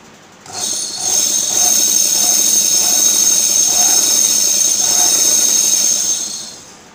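Electric sewing machine stitching thread at a steady high-pitched whir with a faint regular stitch pulse, close and loud for about six seconds, no talk.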